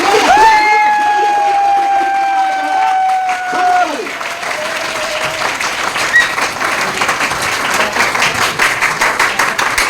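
An indoor audience at an RCM business seminar breaks into steady applause for a speaker taking the stage, dense clapping that continues throughout while a voice speaks over the start, with loud sustained tones early on.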